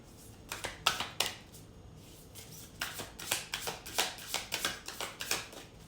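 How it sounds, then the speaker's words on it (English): Tarot cards are shuffled by hand in quick, crisp bursts of riffling, close and fairly quiet, with short pauses between rounds. "I'll shuffle once more."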